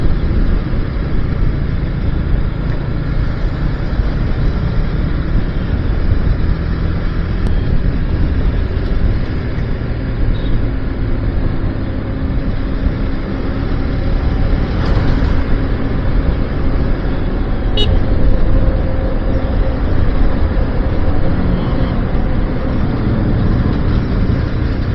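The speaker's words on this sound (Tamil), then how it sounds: "டிராஃபிக்காக இருக்குது." Crowded road traffic produces a continuous, loud, dense rumble of passing engines and tyres that holds steady throughout, with no voices over it.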